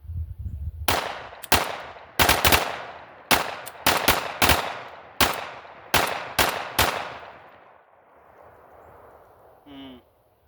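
A 9mm Glock pistol fitted with a forced reset trigger fires about a dozen loud, close shots in quick irregular pairs and bursts, each crack trailing off in an echo, followed by quiet and a brief faint voice at the end.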